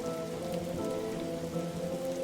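Steady video-game rain falls on surfaces, a soft, even patter with scattered droplet taps, quiet and uninterrupted.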